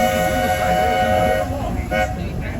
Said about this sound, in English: please wait until the train has come to a complete stop